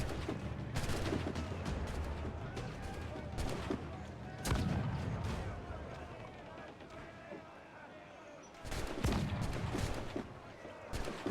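Ship cannons boom in naval combat in the game Assassin's Creed Black Flag: several heavy blasts in bursts amid loud, busy battle noise, with someone talking over it.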